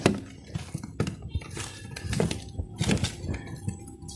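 Salt and black pepper powder are mixed in a bowl for a fish fry. Close, uneven clinks and scrapes of a utensil against the dish repeat irregularly, with no talk.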